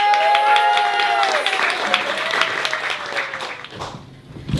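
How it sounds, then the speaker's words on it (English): An audience at a comedy night applauds comedian Jamie Douglas, with dense clapping that fades out gradually while a voice speaks over the start of it. "a big round of applause for Jamie"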